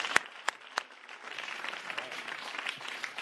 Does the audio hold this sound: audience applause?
yes